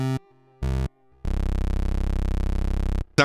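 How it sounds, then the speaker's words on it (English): A Roland Alpha Juno synthesizer with its sub-oscillator switched to a pulse wave plays two short, buzzy notes and then one long sustained tone, each starting and stopping abruptly, loud and alone. "but then we can also move it to a pulse wave."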